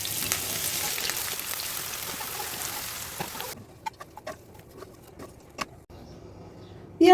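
Chopped onions fry in hot oil in a wok for beef biryani, giving a dense, loud hiss for a few seconds before it drops to a quieter crackle with scattered pops and a sharp clatter at the end.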